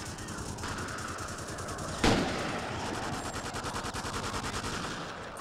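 A sniper rifle fires in a video game, one sharp loud shot near the middle standing out over a dense, continuous crackle of game gunfire and ambient noise, with no one speaking.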